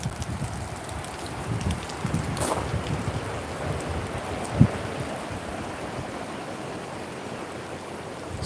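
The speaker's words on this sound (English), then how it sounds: "Still raining pretty good too" Steady rain falls during a storm under a tornado warning, a constant hiss of drops on surfaces with one brief sharper knock partway through, and no voices.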